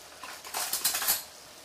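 A metal spoon clinks and rattles against dishes and cookware in a home kitchen while shepherd's pie is being made, a short burst of close, bright clatter with no voices.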